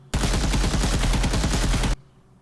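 A loud, rapid, evenly spaced burst of looping automatic weapon fire from a video game in the Unreal Development Kit runs for about two seconds and then cuts off abruptly into near silence.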